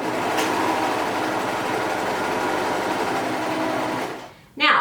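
A serger runs continuously, stitching and its knife trimming the edge off the fabric, a steady close mechanical whir for about four seconds before stopping, then a voice briefly speaks.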